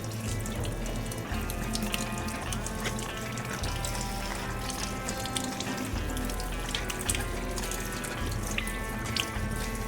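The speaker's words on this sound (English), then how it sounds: "Turn that water down a little bit" Tap water runs steadily and loudly into a sink while freshly harvested garlic is washed, a continuous splashing stream with no talk over it.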